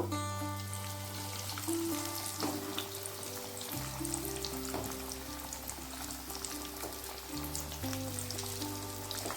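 Chicken nuggets deep frying in hot oil over a medium gas flame, a continuous close bubbling sizzle with a steady hum beneath, a few light clicks as pieces are moved.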